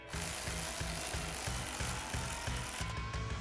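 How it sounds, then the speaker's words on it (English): A ratchet tightens a 12mm nut on the front suspension bracket of a 2024-2026 Toyota Tacoma during a coil-over install, giving a steady run of about ten close, loud, even clicks with no talking. "We can tighten down our 12mm."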